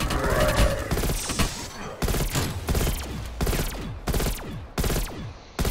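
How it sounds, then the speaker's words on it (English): Rapid bursts of automatic gunfire in Call of Duty Zombies, sharp repeated shots in volleys separated by brief pauses, loud and close, with faint voices in the background. "I knew you were shooting"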